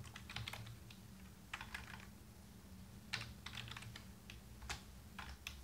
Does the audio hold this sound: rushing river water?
no